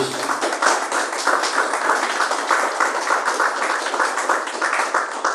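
A church congregation claps in unison, with a steady, dense wash of many hands applauding continuously and little speech.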